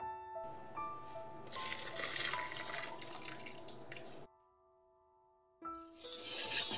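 Hot cream, just off the boil, being poured onto milk chocolate, a soft liquid trickle and splashing with faint clinks, stopping briefly before a closer pour resumes, quiet overall.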